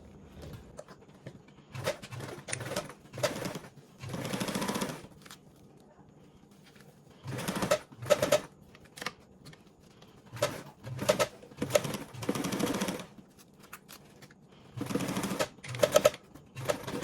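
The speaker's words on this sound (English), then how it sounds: "now I can go ahead and top stitch along the bottom with a 1/8 seam" A domestic sewing machine top stitches a 1/8 inch seam along the bottom edge of a 3D pocket on a bag, running in several short bursts separated by pauses, close and moderately loud.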